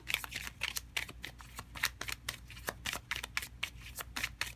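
Tarot cards being shuffled by hand, a quick rhythmic run of crisp riffling flutters, close and fairly quiet with no voice over them.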